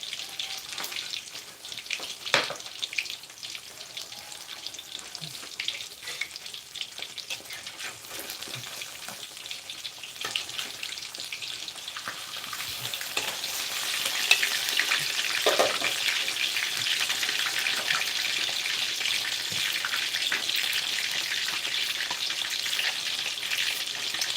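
Whole tilapia frying in hot oil, a steady close sizzling hiss with crackling pops that grows noticeably louder and denser about halfway through, with no voices.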